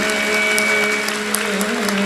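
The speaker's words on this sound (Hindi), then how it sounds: "जरा तालियां तो बजा दीजिएगा।" Applause from an audience at a Jain Navkar Mahamantra Day gathering in Agra, a dense, steady wash of clapping filling the whole short moment, with a faint tone humming underneath.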